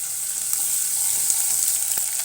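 Ginger garlic paste sizzles steadily in a pan of golden-brown fried onions, a loud, dense, continuous hiss heard close up with no talking.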